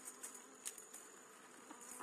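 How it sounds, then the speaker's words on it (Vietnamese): Dwarf honey bees buzzing steadily as they are driven from their nest on a cut tree branch, a faint continuous swarm hum with occasional louder passes of individual bees. "Giờ là đuổi ong ra."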